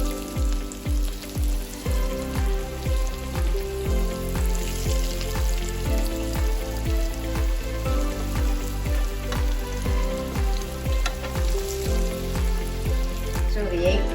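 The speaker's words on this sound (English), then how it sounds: "So you're going to fry your eggplant on both sides until they are a nice golden brown" Eggplant frying in oil in a pan makes a loud, steady sizzle overlaid with a regular pulsing tap repeating about twice a second, close and unbroken, with no talk.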